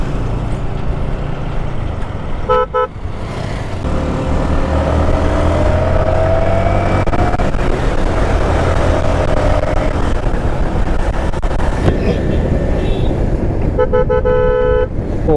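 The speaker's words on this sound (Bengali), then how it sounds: "রাস্তায় তো গাড়ি ঘোড়া ভালোই চলতেছে" Road traffic passes on a busy street during a protest shutdown, with engines rumbling steadily. Loud car horns honk in short bursts near the start and again near the end, and no one speaks.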